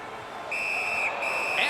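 A referee's whistle at an ice hockey game, blown as the goaltender covers the puck, gives a sustained shrill tone of about a second with a brief break, heard over a steady arena crowd roar.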